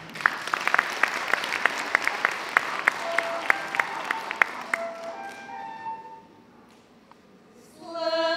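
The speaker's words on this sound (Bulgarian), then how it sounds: "Аплодисменти!" Audience applause at a Bulgarian folk song concert by an ensemble and orchestra, a few seconds of dense clapping that fades out, then a brief swell of sound returning near the end.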